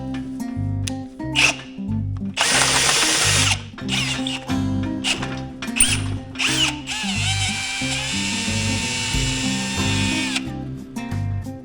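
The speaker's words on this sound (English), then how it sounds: "Now I'm going to start with a 7/8 drill bit, drill through it real slow" A power drill with a 7/8-inch bit grinds and whines in loud bursts through a steel bolt, pausing and restarting, with a long sustained high-pitched screech as the bit bites into metal.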